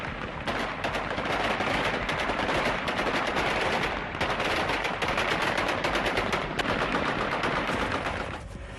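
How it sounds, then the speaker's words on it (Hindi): Taliban gunmen outside Kabul airport fire celebratory shots into the air, a dense, continuous roar of overlapping automatic bursts and single shots, loud and sustained throughout. "काबुल एयरपोर्ट के बाहर बंदूकधारियों ने की हवाई फायरिंग।"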